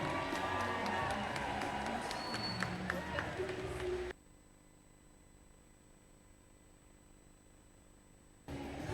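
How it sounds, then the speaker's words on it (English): Crowd at a regional robotics competition claps and cheers in a broad, steady roar lasting about four seconds, with sharp whoops rising above it, then the arena drops to a low hum before the noise returns near the end. "So a round of applause for the ASU Army"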